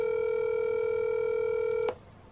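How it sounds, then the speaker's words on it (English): Steady telephone dialing tone during a call, a single sustained electronic tone that holds evenly and then cuts off abruptly near the end, leaving faint background hiss. "So we're calling Kylo Ren right now"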